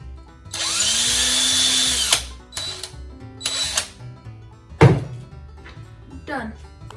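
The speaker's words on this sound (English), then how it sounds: "Now we have our drill to make the pilot hole in the log for our hook." A power drill bores a pilot hole into a log for a bird feeder hook, whirring loudly for over a second, then in shorter bursts, with thunks and quiet talk between the runs.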